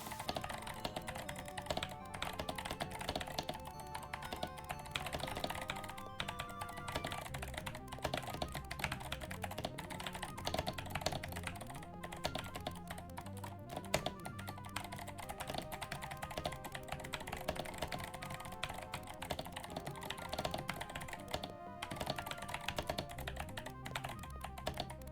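Continuous clattering keystrokes on a computer keyboard, played alongside Mario Teaches Typing, run steadily for the whole stretch beneath layered game music.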